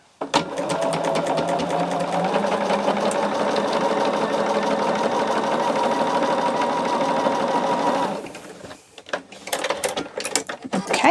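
A sewing machine stitches Poppie Cotton Country Blessings quilt block pieces in one steady, fast, whirring run of about eight seconds, then stops, followed by a few quiet handling clicks and rustles.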